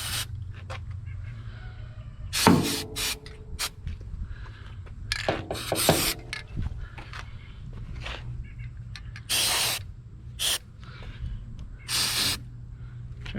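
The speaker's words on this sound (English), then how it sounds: "So we're gonna spray." Lubricant is sprayed onto the rusty hood hinges of a car in several short, hissing aerosol bursts, close up, with rubbing and clunking handling noises in between.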